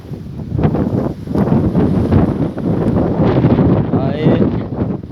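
Strong wind buffets the microphone with loud, continuous rumbling gusts while a person talks underneath.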